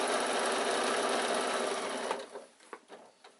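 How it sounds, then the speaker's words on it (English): A sewing machine runs steadily as it stitches a seam on a fabric baby bag, then stops, followed by a few soft handling clicks and rustles. "Stop with your needle down again and sew up to the top."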